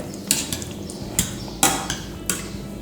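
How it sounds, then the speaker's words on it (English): Tomatoes crushed with a potato crusher in a pot while making a basic cacciatora sauce: several separate metallic clanks and squelchy presses, fairly close and loud, with no talk. "We're going to crush the tomatoes using a potato crusher"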